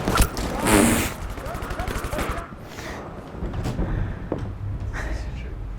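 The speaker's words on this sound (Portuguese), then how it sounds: "vou só atirar no meio da fumaça, torcer pra dar certo" Gunfire crackles in a first-person shooter on a PC with a Core i5-9400F, a dense burst of shots at the start followed by scattered bangs and rumbles under ongoing game noise.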